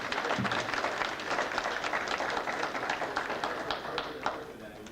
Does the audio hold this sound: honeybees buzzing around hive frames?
no